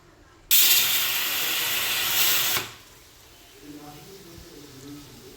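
A pressure cooker whistle lets out a loud, sharp hiss of steam for about two seconds while cooking chana, then stops abruptly, leaving quiet room sounds.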